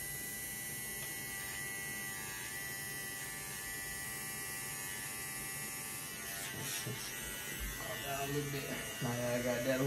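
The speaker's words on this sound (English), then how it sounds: "I can take that little excess here off with the trimmer, I mean, with the liners" Electric hair trimmer liners buzzing steadily during a barbershop haircut, a constant close mechanical whine that gets louder and rougher toward the end as the liners touch the hair.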